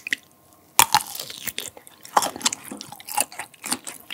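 Close, wet chewing and biting of a taut-skinned sausage during a Korean mukbang, a sharp snap at the first bite followed by irregular squishy mastication and juicy smacking, no talking.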